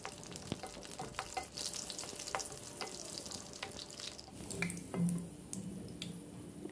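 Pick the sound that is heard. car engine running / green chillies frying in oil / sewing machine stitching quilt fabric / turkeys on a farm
green chillies frying in oil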